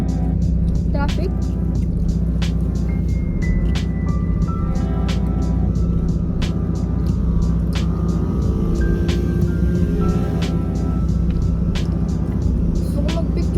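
Low engine rumble of vehicles in heavy traffic heard from inside a car on a rainy day, with a steady idling drone, scattered clicks and distant horn tones, while people talk over it.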